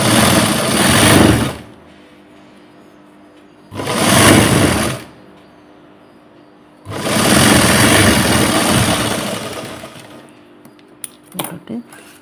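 Sewing machine stitching a blouse seam in a tailoring lesson, running in three loud bursts separated by pauses, the last burst longest, with a few faint clicks at the end.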